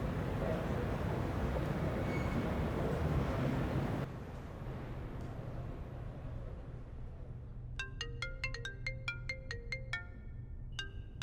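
A phone ringtone chimes in a repeating pattern of bright electronic notes over a steady rumbling background, sounding several times near the end without anyone talking.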